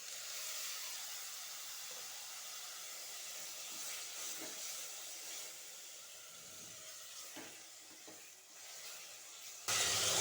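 Tomatoes softening in a pan for Tamil-style tomato rice, a steady close sizzle and hiss running throughout, with a few soft scrapes and a sudden louder burst of sizzle near the end.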